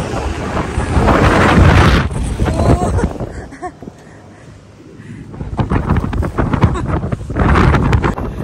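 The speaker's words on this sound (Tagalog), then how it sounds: "Malamig ang simoy ng hangin." Gusty wind buffets the microphone in loud rumbling waves, easing off briefly in the middle before surging back strong.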